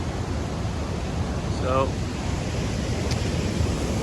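Steady broadband rush of water flowing through High Falls Gorge in the Adirondacks, heard from a bridge above; continuous and fairly loud, with a brief spoken word partway through.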